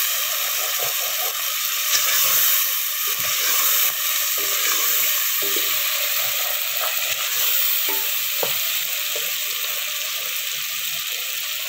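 Garlic fries in a pan for okra and onion cooking, giving a loud, continuous close-up sizzle with occasional stirring scrapes and no talking.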